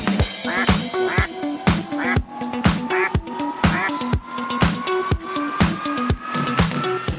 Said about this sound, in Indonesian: Sekarang kita lagi angon bebek.